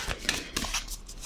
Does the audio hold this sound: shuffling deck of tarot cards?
yes